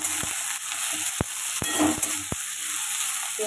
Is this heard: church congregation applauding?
no